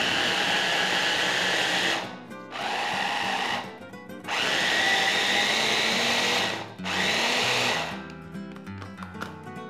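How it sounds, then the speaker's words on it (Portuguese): A food processor whirring as it blends a sauce with olive oil, loud motor bursts in four runs separated by short pauses, the last stopping into quieter kitchen noise. "E vamos processar isso aqui para fazer um molho"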